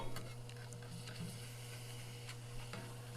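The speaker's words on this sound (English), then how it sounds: "Them eggs right there is gonna fry too fast because that's too hot." Eggs frying in a skillet on a homemade rocket stove, a soft steady sizzle with faint scraping ticks over a low constant hum, quiet and close, no talking.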